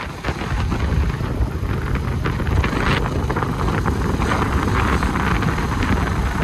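Strong wind roars steadily against the microphone on a foggy mountain road at Ma Pi Leng pass, Meo Vac, Vietnam, a dense rushing buffet with gusty peaks and no voices.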